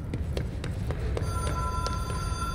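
A hotline telephone ringing inside the video game Control, repeated sharp bell rings in a steady rhythm over a low ambient hum, with no talking.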